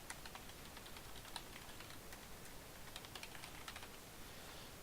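Fingers type quickly on a computer keyboard, a rapid, irregular stream of light key clicks, faint and steady against a low background hiss.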